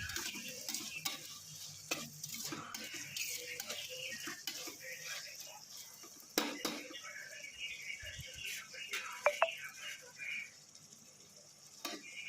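Biryani cooking in a pan, with a soft sizzle and repeated scraping stirs throughout, fairly quiet and close, with occasional sharper knocks of the utensil.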